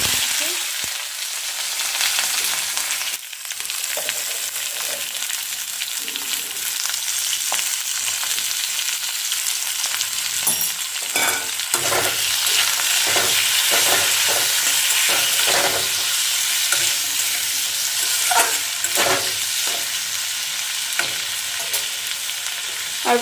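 Ivy gourd (kundri) frying in a hot pan while being stirred: a steady, close sizzle with repeated scraping strokes of a spatula throughout, no voices.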